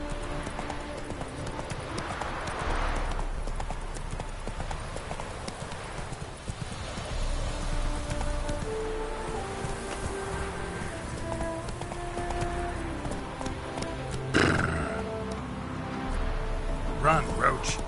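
Hooves of a horse clip-clopping at a steady gait in The Witcher video game, a continuous rhythmic beat under a rain-like ambient bed with a brief louder burst near the end, while someone talks over it.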